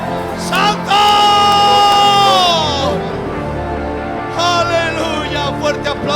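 A church congregation shouts and cries out in loud, sustained bursts, with high wailing voices rising together, pausing, then swelling again.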